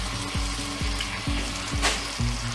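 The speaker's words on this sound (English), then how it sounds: "All I'm going to do is just keep stirring this just to heat it through." Chickpeas and tomatoes with chopped parsley sizzle steadily in a pan for a vegan pasta dish, with a spoon scraping and stirring in repeated strokes about every half second, close and fairly loud.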